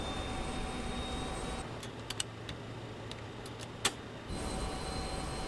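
The jet engine igniter of an RJ85 regional airliner in Microsoft Flight Simulator 2024 ticks faintly, a handful of sharp, irregular clicks over the steady drone of the cabin and engines.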